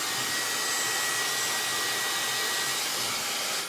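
A Dyson hair dryer with its nozzle attached blows a steady, loud, high whoosh of air with a faint whine, running continuously and cutting off at the end, with no talking.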